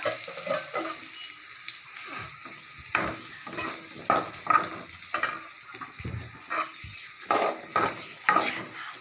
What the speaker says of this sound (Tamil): வந்து வெங்காயம் கொஞ்சமா போட்டு வதக்கிக்கலாம்